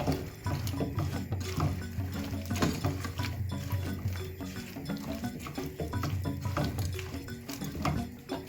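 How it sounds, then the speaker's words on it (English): Soya chunks are stirred in a pan with a spoon, giving a steady, moist scraping and clinking that continues throughout at moderate closeness. No voices accompany it. "Give it a good stir"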